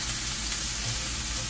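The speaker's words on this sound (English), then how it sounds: "I'm now gonna toss my codfish or saltfish into the vegetables" Saltfish tossed into sautéed vegetables in a hot pan for Jamaican ackee and saltfish, giving a steady, close, loud sizzle that stays even throughout, with no talking.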